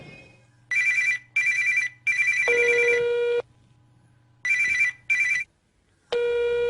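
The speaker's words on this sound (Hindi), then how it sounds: "ये तुम्हारा फोन बहुत देर से बज रहा है" A mobile phone rings loudly and alone in a quiet room, repeating in clear bursts of a tonal ringtone with short gaps, over a low steady hum.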